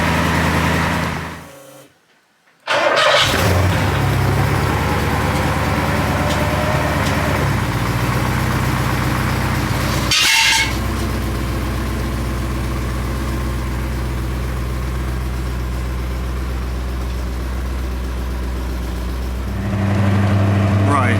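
A Porsche 928 engine with a newly fitted exhaust idles with a low rumble, then revs up briefly before settling back; a voice talks over it at times.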